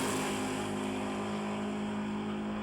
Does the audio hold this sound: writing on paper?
no